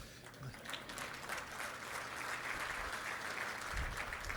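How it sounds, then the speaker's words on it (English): Outdoor crowd at a Las Vegas rail groundbreaking ceremony claps steadily, a continuous wash of many hands at moderate distance, with some low rumble and faint crowd noise underneath. "Yes, sir, you can clap."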